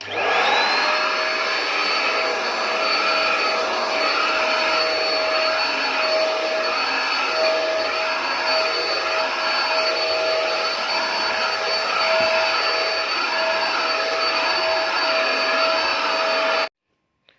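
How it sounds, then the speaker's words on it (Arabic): A lightweight Turkish Simbo vacuum cleaner runs continuously on a floor, a loud steady whine with a constant high pitch and airy roar close by, cutting off abruptly near the end. "عملتها بالمكنسه دي خفيفه على ايدي كده بصراحه. هي اسمها سيمبو، هي ماركتها تركي اسمها سيمبو"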